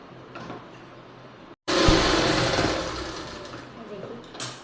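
A sewing machine stitches a seam on palazzo trousers, starting with a quiet whir, going silent for a moment, then bursting into a loud, fast, continuous mechanical run that slowly eases off.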